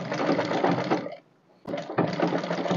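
A sewing machine stitches crinoline for a ball dress in two steady, loud runs of rapid mechanical chatter, separated by a short pause with a single sharp click.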